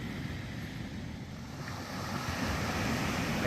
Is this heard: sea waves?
yes